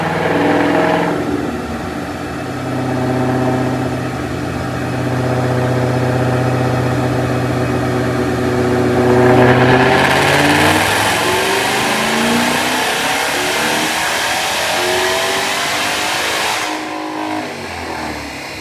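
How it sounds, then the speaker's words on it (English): A 2009 Mustang GT500 with lopey Detroit Rocker cams and a TVS 2.3 supercharger revs hard on a dyno, pitch climbing steadily into a loud high scream before dropping off near the end. "Check out this dyno pull."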